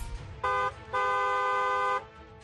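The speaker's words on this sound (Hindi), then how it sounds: "हॉर्न बजाना जरूरी है।" A car horn honks twice, a short blast followed by a longer sustained one, loud and close over faint street background.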